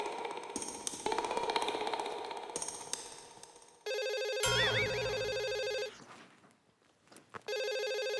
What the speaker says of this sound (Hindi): फोन तो उठाइए